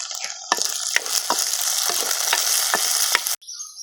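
Onions fry in a hot pan while being stirred, a loud continuous sizzle broken by repeated scraping and tapping of the spoon, ending abruptly.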